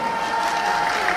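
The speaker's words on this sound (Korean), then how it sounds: "박수 한번 다시 불러서 박수" Brief burst of audience applause and crowd noise at a large festival stage show, loud and dense, lasting only a moment.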